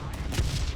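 Anti-aircraft gunfire in War Thunder, a quick, rumbling burst of several low thuds packed together in under a second, moderately loud with no voices over it.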